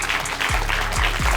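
An event audience claps in a dense, steady burst of applause, close and loud, lasting only a moment.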